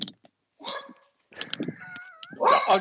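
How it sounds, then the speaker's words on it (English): A pet dog barks and yelps in short, loud bursts with gaps between them, near the microphone, mixed with some whimpering and a person's brief speech. "My dog just went nuts."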